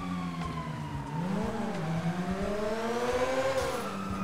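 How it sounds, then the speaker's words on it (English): Ferrari engine in GTA 5 revving and accelerating, a steady rising and falling drone with shifting pitch that holds for about four seconds, with a faint siren-like tone in the mix. "Yo, that Ferrari sounds so good back there, man."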